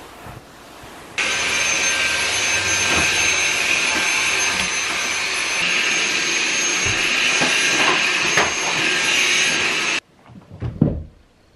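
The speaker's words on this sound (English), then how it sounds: "I'm really glad I had my Dyson stick vacuum to help me get this sofa cleaned up" A Dyson stick vacuum runs on a leather sofa, starting abruptly into a loud, steady high-pitched whir with occasional bumps and shifts, then cutting off to leave a few soft handling knocks.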